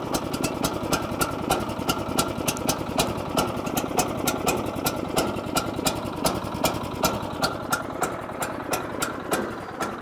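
A sawmill engine idles steadily as it warms up, a loud, continuous rhythmic chugging with regular knocking pulses throughout, close by and without talk.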